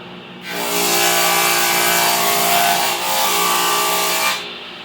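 A table saw feeds through wood, cutting a raised panel, a loud sustained whine with a brief dip near the middle before it cuts off, heard alone.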